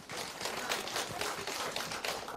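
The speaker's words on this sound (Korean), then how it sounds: "박수로 모시겠습니다" An audience at a Pink Ribbon healing camp event claps steadily and fairly close for the full stretch, a dense patter of hands with no voices over it.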